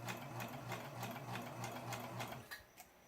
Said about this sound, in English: So here I am, just carefully stitching till I get to where I started.